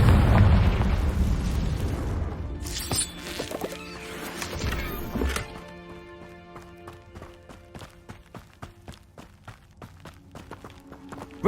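Confringo fire spell blasts from the video game Hogwarts Legacy, a cluster of loud bursts in the first five seconds, followed by quieter repeated thuds and clicking steps.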